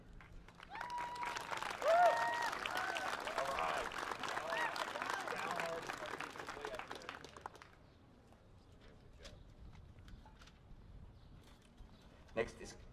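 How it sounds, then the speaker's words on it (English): Audience applause at a high school band end-of-year concert, a dense burst of clapping that runs for several seconds, then fades to scattered claps and quiet room noise with a few sharp late claps. "we can give her a round of applause"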